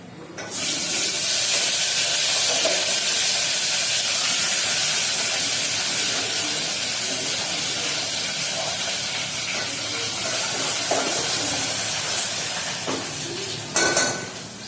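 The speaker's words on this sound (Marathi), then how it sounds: "आपल्याला आता मसाला थोडा फ्राय चांगला झाला" Masala spices sizzle and fry steadily in a pan for a dhaba-style egg masala, a dense continuous hiss with faint stirring clinks, no talking.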